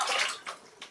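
Water sloshes and splashes in short bursts as a gold prospecting pan is shaken indoors, one longer slosh followed by two quicker splashes, close and fairly faint.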